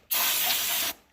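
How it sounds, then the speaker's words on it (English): A spray can fires one continuous, close, loud hissing burst of just under a second onto a Grizzly G1021 15-inch thickness planer under repair, then cuts off sharply, followed by a small click. "I'm just spraying this all down,"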